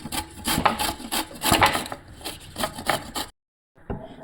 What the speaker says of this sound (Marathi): हे बघा, आपल्याला अशी कैरी खिसून घ्यायची।